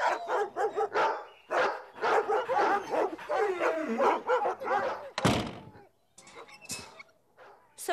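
A cartoon dog in an animated series barks, yips and whimpers in a run of close, lively calls, followed by a couple of sharper barks after a short pause.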